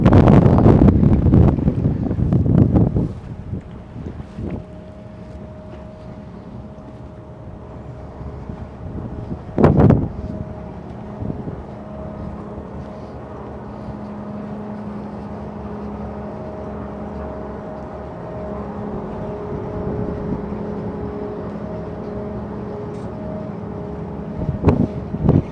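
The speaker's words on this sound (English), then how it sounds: "Well, definitely windy on this side." Steady wind buffets the microphone for most of the stretch, with a heavy rumbling gust at the start and another brief burst midway, no voices.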